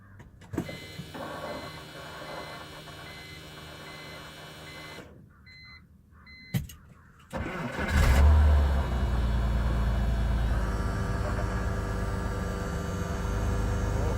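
A BMW 330Ci E46 after a fuel pump replacement cranks and fires: a quiet idle hum with a click and short pause, then a loud burst as the engine catches and settles into a steady, full running drone.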